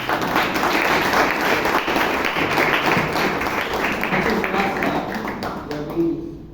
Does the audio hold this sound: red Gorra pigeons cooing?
no